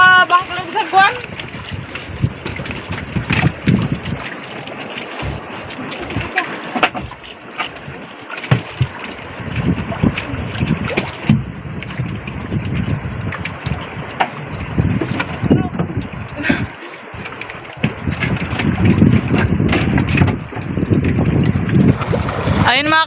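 A paddle boat rocks on choppy sea water, with sloshing and splashing waves, wind buffeting the microphone, and people talking over it.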